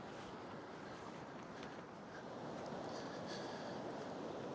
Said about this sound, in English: It's a solid white noise all night long. Just the river.